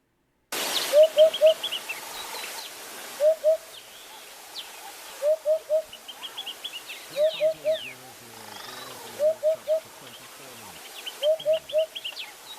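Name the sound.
hoopoe bird call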